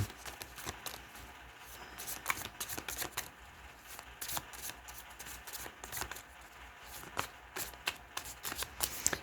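Lightseer Tarot cards shuffled by hand, a long run of crisp riffling and flicking bursts in irregular rhythm, close and fairly quiet with no talking.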